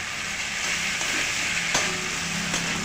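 Fried soybeans, green peas and chopped tomato sautéing together in a pan, a soft continuous sizzle with occasional stirring knocks from a spoon.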